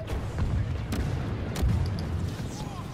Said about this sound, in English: everywhere I go there's a bloody grenade